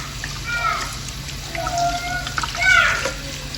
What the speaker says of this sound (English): Rinse these things out, make sure no hair ain't on them.